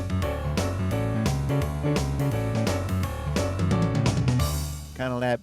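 Lowrey Royale home organ with auto bass engaged, churning out a busy boogie-woogie piano line over a walking bass, loud and steady throughout with a brief rising run near the end, no one talking.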